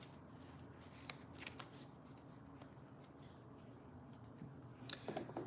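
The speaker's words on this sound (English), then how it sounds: "So I'm going to go ahead and shuffle these two." A deck of cards is shuffled over and over, a soft stream of quick papery flicks and taps, quiet and close, rising a little at the end.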